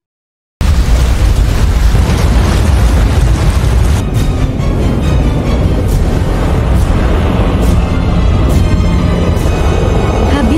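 Sustained roaring blast from a destructive weapon activated in a Sonic film, a dense continuous rumble starting abruptly and holding loud for the whole stretch, with crackling bursts layered on top.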